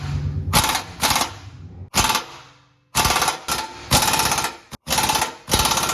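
An impact wrench hammers at exhaust clamps on a Trailblazer SS in short, loud rattling bursts, about eight in quick succession with brief pauses between, close up and without talk.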